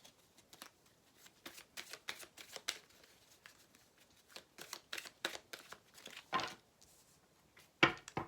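Tarot cards being shuffled by hand, a close, soft series of quick riffling and sliding card sounds in uneven bursts, ending with a sharper slap.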